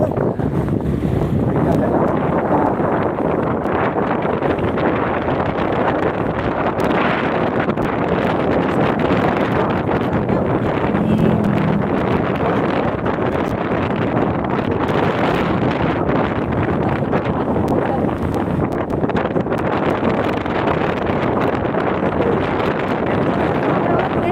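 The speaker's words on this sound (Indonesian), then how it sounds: "Suara angin hungkul cenah." Steady, loud wind roar buffets the microphone while riding a motorbike on an afternoon family outing along a rough road, a continuous broadband rush with no letup throughout.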